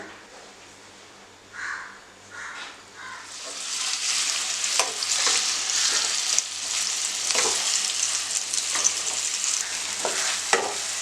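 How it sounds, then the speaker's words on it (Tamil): Paneer fries in hot oil in a pan, a loud steady sizzle with crackling bursts that swells after a quieter start and keeps going. "இப்போ இந்த பன்னீரை வந்து நம்ம ஃப்ரை பண்ணிக்கலாம் எண்ணெயில்."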